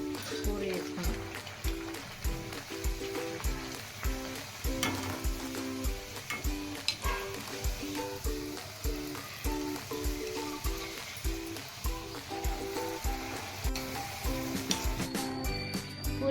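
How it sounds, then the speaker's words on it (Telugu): Jowar flour puris frying in hot oil, with a steady broadband sizzle and bubbling running throughout over a rhythmic backing beat of music. "నూనె కాగింది. పూరీ వేసుకున్నాం."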